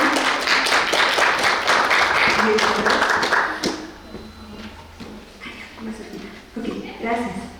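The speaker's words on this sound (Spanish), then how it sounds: "la recibimos con un fuerte aplauso" Audience applause welcoming a speaker at an academic talk on building research instruments with artificial intelligence: a dense, steady burst of many hands clapping for several seconds, then fading out as a voice starts speaking.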